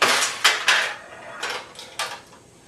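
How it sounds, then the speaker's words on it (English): A pachinko ball launched onto the playfield of a Nishijin C pachinko machine, heard as sharp metallic clacks and rattles, several quick impacts in the first second followed by a couple more near the end, close and fairly loud. "If we flip again, it'll actually launch a ball onto the playfield."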